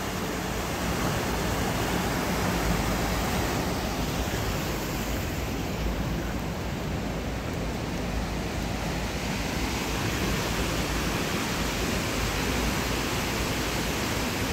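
The Isère river rushes strongly past, a dense, steady broadband roar of flowing water, constant and fairly distant, with no voices over it.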